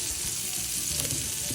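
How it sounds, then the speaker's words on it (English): A thick steak sears in a hot pan, giving a steady, loud, close sizzle and crackle of frying fat that runs unbroken without any voices. "right now all I'm doing is I'm searing the steak"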